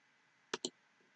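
Computer mouse clicking: two quick, close clicks in fast succession, crisp and near against a faint background hiss, followed by a much softer tick.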